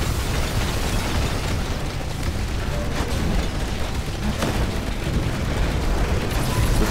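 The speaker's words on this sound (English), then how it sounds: "Good explosion." A large explosion rumbles in Titanfall, a continuous loud roar of blast noise and debris that fills the whole stretch without speech.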